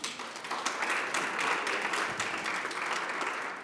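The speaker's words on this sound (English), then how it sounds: "Give yourselves a round of applause." Conference attendees give a steady, full round of applause, a dense wash of many hands clapping continuously in a large room with no voices over it.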